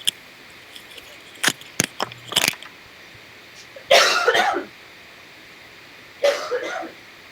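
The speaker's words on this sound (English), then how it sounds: "I'm sorry, I cannot stop coughing." A woman on a music-business panel coughs in a few sharp bursts, a pair of short hacking clusters at close range between quiet pauses, with faint clicks early on.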